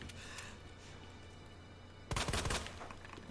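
Leon's shotgun firing in Resident Evil 4, one sudden loud blast with a brief rattling tail that breaks a low, quiet background of game ambience.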